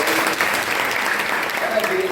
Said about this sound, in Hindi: चलो तालियां बजाओ कुमकुम के लिए।